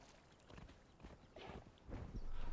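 A horse galloping in the video game Conan Exiles, with quiet rhythmic hoofbeats that grow steadily louder and closer over a couple of seconds.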